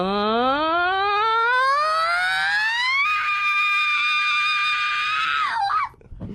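A drawn-out rock-style scream from a radio studio voice, rising steeply in pitch for about three seconds, holding a loud strained tone, then breaking off into a short falling wail.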